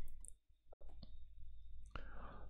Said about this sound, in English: So let's click on reset custom settings.